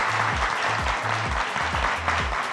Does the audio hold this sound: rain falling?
no